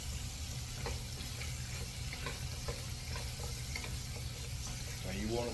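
Beef short ribs searing in hot oil in a pan, a steady loud sizzle with light scraping as the pieces are moved around, continuous and close.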